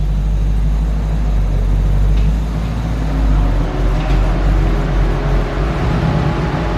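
A VE Commodore ute rolls out onto a race track, giving a low, steady engine rumble at moderate distance with a constant broadband road and wind wash.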